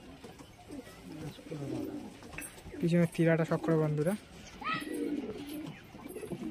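Pigeons coo in short repeated bursts among prized breeding birds, with someone talking over them nearby throughout.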